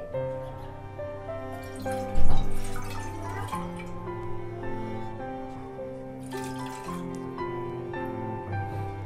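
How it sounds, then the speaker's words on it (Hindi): Two cups of water poured into a cooking pan for a home cough remedy, a soft trickling splash partly masked by steady background music, no talking. "सबसे पहले तो हम पैन में दो कप पानी के डालेंगे"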